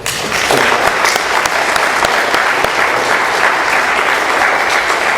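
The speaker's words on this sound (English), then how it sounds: "Let's give one more round of applause to Terri." A room of listeners at an Alcoholics Anonymous meeting in Doylestown, Pennsylvania breaks into loud, dense, continuous applause for a speaker, holding steady for several seconds with no voices.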